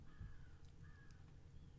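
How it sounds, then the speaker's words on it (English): Crows cawing outdoors in the countryside: two drawn-out caws close together, faint and distant over a low rumbling background, with no talking. "Sorry if you hear the birds outside."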